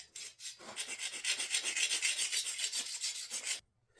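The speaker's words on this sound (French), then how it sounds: "Ma lime mord comme ça dedans." A metal file rasps across a steel knife blade with quick rhythmic strokes, a close, gritty scraping that runs for about three seconds before stopping abruptly.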